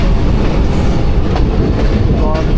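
Railway locomotive on shunting duty at a junction, a loud close rumble of wheels and engine with rhythmic clickety-clack over the rails, steady and continuous throughout.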